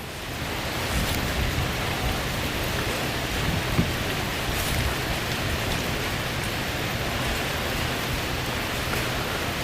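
Heavy rain from a line of thunderstorms falls steadily beside a dock, a dense, even hiss throughout with faint low rumbles underneath and no talk.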